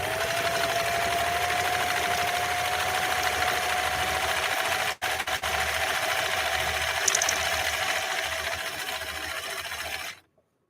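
A vintage 1960 CL21A sewing machine stitching with revised cam A, giving a loud, steady, close mechanical whir with a brief dropout midway before stopping abruptly.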